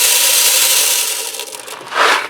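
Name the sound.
dry elbow macaroni poured into Ninja Speedi pot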